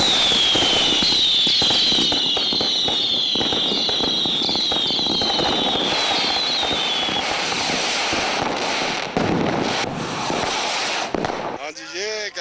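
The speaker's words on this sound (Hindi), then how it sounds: "The fireworks have been beautiful." Bonfire Night fireworks in Bradford crackle and bang continuously, with several rising whistles early on, loud and close, under a background of crowd voices.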